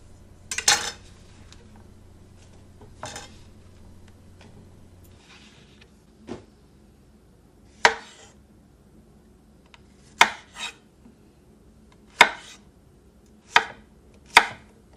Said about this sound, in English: we're going to chop those up, nice bite-sized pieces